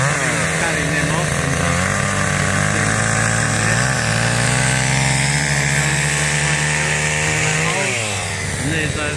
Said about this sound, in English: You can hear the chainsaw going.